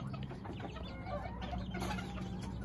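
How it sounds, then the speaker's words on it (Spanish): Chickens and young chicks cluck and peep close by in a farmyard pen, a busy, continuous chatter of overlapping calls. "abajo tenemos a los pollitos ahí desarrollándose"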